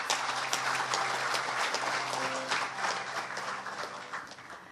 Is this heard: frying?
no